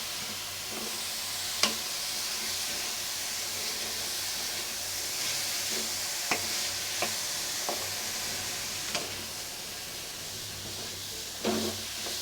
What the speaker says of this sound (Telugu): ఇప్పుడు బంగాళదుంపలు వేసుకున్నాం కాబట్టి మనమైతే దీన్ని బాగా కలుపుకుందాం